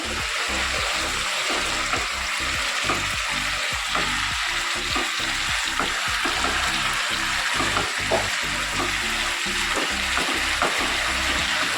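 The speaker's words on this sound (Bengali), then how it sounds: "আলু ভাজা বসিয়ে দিয়েছি" Potatoes fry in a pan in a home kitchen, giving a steady close sizzle with regular soft scraping pulses from stirring throughout.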